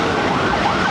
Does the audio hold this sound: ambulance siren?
yes